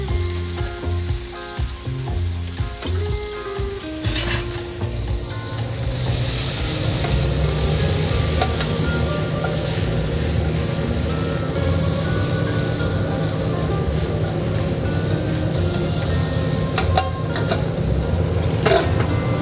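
Flank steak sizzles loudly and steadily in a hot pan, a dense crackling roar that swells after a quieter start and holds for the rest of the stretch, with occasional faint clatter and no talk.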